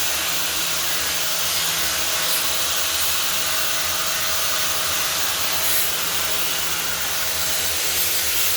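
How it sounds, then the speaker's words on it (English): Metal grinding while laying out parts for a custom-built clamp in a fabrication shop, a loud, steady, continuous whine and hiss that runs unbroken throughout, close and alone without talk. "He's in here grinding, doing some grinding and laying out right now, so that way we can build a custom clamp."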